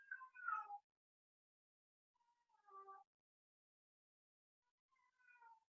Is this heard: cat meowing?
yes